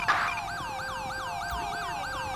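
Wailing ambulance siren from Grand Theft Auto V (LSPDFR police mod), repeating rising-and-falling sweeps steadily and fairly loud over a low engine hum, with no talk.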